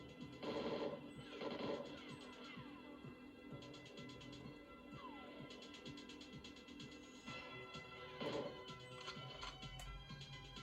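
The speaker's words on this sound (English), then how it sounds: "Where is that gunfire coming from?" Video game gunfire from an unseen shooter, bursts of rapid shots and crashing hits mixed with ringing game effects, fairly faint and distant-sounding against a busy sound mix.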